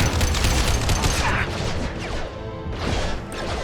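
Mass Effect 2 gunfire crackles in loud, rapid bursts with crashing impacts, thinning briefly before another volley, while a voice is heard underneath.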